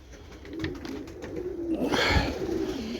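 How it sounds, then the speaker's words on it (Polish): Soft, low cooing of several racing pigeons, a steady burbling murmur close by, with faint rustling and a brief flutter. "Gołębie są nakarmione."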